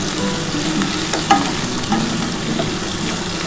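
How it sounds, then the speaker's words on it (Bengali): Onions and potatoes fry in a pan for a jackfruit curry with a loud, continuous sizzle, broken by a few scraping stirs. "একটু পেঁয়াজটাও লাল লাল করে ভাজা হলো।"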